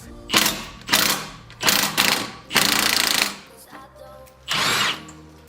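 Impact wrench removing exhaust bolts on a supercharged 2005 Mustang GT during a catless X-pipe install, loud bursts of rattling hammering repeated five or six times with short pauses between.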